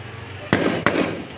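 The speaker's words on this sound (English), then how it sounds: "what's that? A firework?" Two fireworks burst at night, sharp loud cracks a third of a second apart, each with a short rumbling tail over a quiet background.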